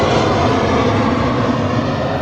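A steady, loud roar of airplanes passing overhead near a river, a continuous broadband rumble that holds without break for the whole stretch.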